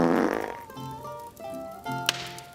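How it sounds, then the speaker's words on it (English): A dog's fart sounds as a drawn-out, wavering rasp that trails off, then a short second burst, quiet and alone with no talk. "It can only mean one thing. My dog is farting."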